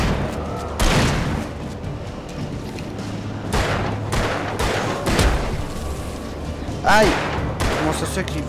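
Shotgun blasts ring out in the Alan Wake video game, several loud booming shots spaced a few seconds apart over a low game ambience.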